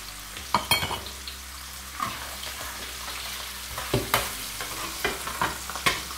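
Garlic and parsley sizzle in oil in a paella pan for a cuttlefish paella, with a steady fry and repeated sharp scrapes and clinks of a utensil stirring against the metal.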